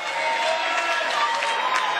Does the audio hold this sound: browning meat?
no